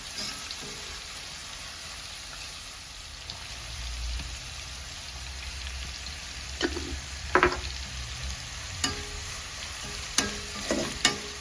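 Vegetables stir-frying with salt in a pan for a simple Ramadan iftar meal give a low, continuous sizzle, broken toward the end by several sharp scrapes and clacks of a spoon against the pan, with no voices.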